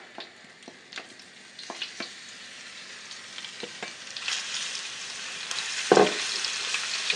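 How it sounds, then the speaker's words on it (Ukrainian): Chicken pieces and garlic fry in a pan with a steady sizzle, punctuated by scattered clicks and taps, the hiss swelling louder toward the end with a brief clatter near six seconds; no one speaks. "Так, ми підсмажили останні шматочки м'яса. Додаємо чесничок."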